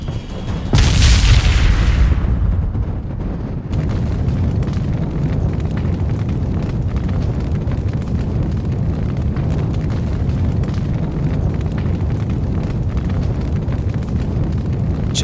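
Artillery fire in the video game Valkyria Revolution opens with a loud, booming blast, followed by a sustained roaring rumble of explosions that continues steadily to the end.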